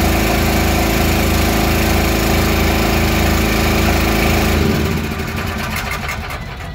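The engine of a QuickDraw chemical batch mixing system on a farm show floor runs with a loud, steady droning hum and rhythmic pulsing, then shuts down and winds down near the end.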